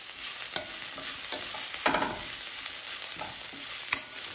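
Carrot leaves cooking in a pan are stirred after being covered for a couple of minutes, giving soft scraping strokes and a few sharp utensil knocks over a faint, steady sizzle.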